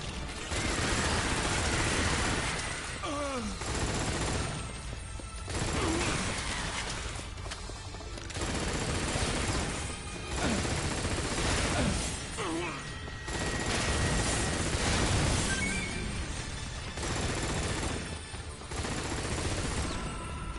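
Gunfire in Earth Defense Force 5, dense bursts of rapid shooting repeating in loud waves with short pauses, mixed with game effects and occasional speech.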